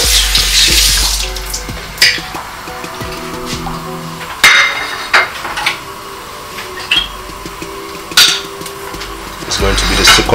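Tap water runs steadily into a sink while fish is rinsed, a continuous splashing hiss broken by a few sharp knocks and clatters of handling near the basin.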